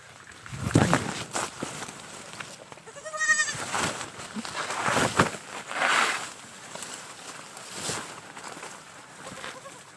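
A goat on a farm gives a single bleat early on, amid shuffling footsteps and rustling movement close by.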